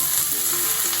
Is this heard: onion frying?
yes